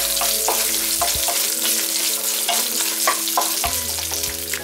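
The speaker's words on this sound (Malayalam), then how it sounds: "ഇങ്ങനെ പീസാക്കി വെച്ചിരിക്കുന്ന തേങ്ങ നമ്മൾ ഇട്ട് കൊടുക്കണം ഇത് നല്ലതുപോലെ ഒന്ന് മൂക്കണം" Coconut pieces fry alongside ivy gourd in a pan for a Kerala kovakka ularthiyathu: a steady, close sizzle with occasional stirring scrapes and clinks, continuous throughout with no talking.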